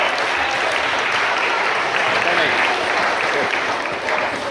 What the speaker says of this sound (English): let's give that Roger a big round of applause